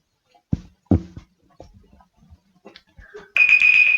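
After a few soft taps and clicks, a Redmi Note 10 Pro Max phone ringtone for an incoming call starts abruptly, a bright, sustained electronic tone that continues loudly to the end.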